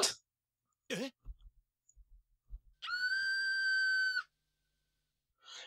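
A woman's desperate scream in The Fruit of Grisaia visual novel: one sustained, high, shrill cry lasting about a second, loud and alone, preceded by a few faint soft knocks and followed by a brief breathy sound.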